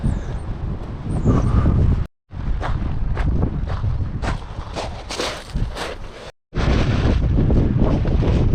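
Strong wind buffets the microphone on a seafront, roaring and gusting continuously with two brief cutouts, and faint footstep-like thumps mixed into the rush.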